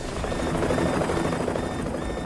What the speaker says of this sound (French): Un des hélicoptères s'écrase alors qu'il survole la résidence.